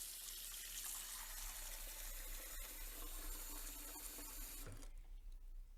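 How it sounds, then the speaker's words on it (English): Warm water runs steadily from a tap into a glass bowl set in a ceramic sink, a continuous broadband splashing hiss that stops abruptly near the end. "So I'm going to start with warm water."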